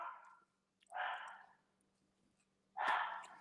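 A dog barks indoors in a basement, giving three separate loud barks spaced apart, each a short burst with pauses of quiet between them and no talking.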